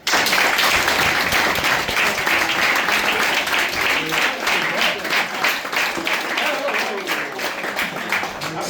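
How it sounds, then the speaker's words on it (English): An audience at an award presentation claps loudly and continuously for a winner, a dense close burst of applause that starts abruptly and holds steady before easing slightly, with voices mixed in. "give him a clap."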